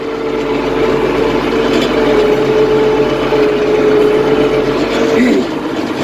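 A tractor engine, an IH 1586, drones steadily under load, a loud, close, continuous rumble with a constant hum that eases off near the end.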